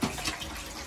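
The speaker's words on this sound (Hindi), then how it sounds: "पहले ऐसे पानी से धो लें खंगाल लेंगे इसे अच्छे से" Tap water runs and splashes over dishes being rinsed at a kitchen sink, a steady wet hiss with a brief splash at the start, close and moderately loud.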